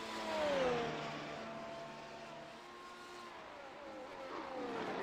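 F1 race car in a racing video game lapping the Hockenheimring, its engine note droning steadily and sweeping through gear changes, loud and continuous throughout.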